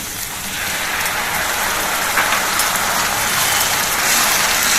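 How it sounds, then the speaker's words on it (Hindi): Tomato puree hits hot oil and spices in a pan for a bottle gourd curry, giving a steady, loud broadband sizzle that swells slightly and runs alone without talk. "और अब हम डालेंगे इसमें टमाटर प्यूरी"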